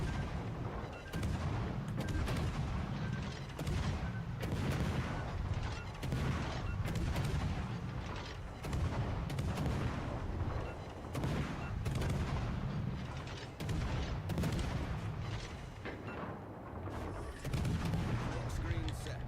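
Warship guns fire during a naval battle in World of Warships: Legends, a string of sharp booms and rolling artillery blasts at irregular intervals, with someone talking over much of the gunfire.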